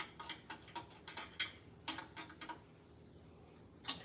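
A wrench ratchets in quick, faint, evenly spaced clicks while turning a bolt on an engine flange during a head gasket replacement, with a few louder metallic taps scattered among the clicks.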